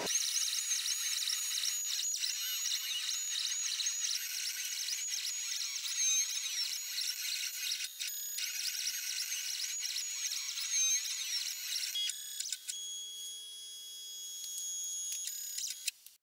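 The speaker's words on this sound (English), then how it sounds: "So then I send the artwork to this Shapeoko computer-controlled milling machine that I fitted with a pen mount, and it draws the curves directly on the record sleeve." A Shapeoko CNC milling machine fitted with a pen mount draws curves on a record sleeve, giving a steady high-pitched motor whine with shifting tones and beeping, chirping stepper sounds that run continuously and change character near the end.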